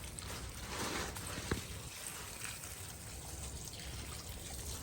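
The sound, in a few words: water while washing Byadgi chillies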